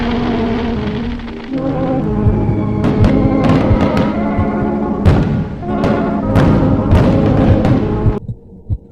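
Midnight New Year's fireworks show downtown in a city, with a run of sharp bangs and cracks over a dense, continuous rumble, several bursts close together before it drops off at the end.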